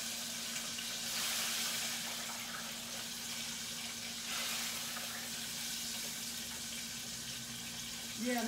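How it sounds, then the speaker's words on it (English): Chicken frying in a home kitchen gives off a steady broadband sizzle with a soft, watery hiss that swells and eases, fairly close, with a low electrical hum beneath and no speech. "Y'all hear it sizzling, sizzling."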